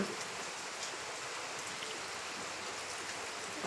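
Steady typhoon rain pouring down in Camarines Sur, a dense continuous hiss of drops on surfaces, fairly close and even throughout with no voices.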